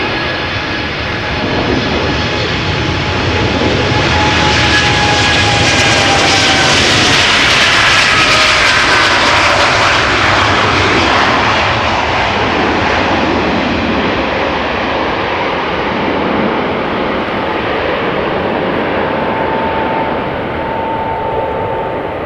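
A nine-year-old airliner departing Amsterdam Schiphol produces a loud, sustained jet engine roar that swells to a peak near the middle and slowly fades as it climbs away, with thin whining tones drifting downward.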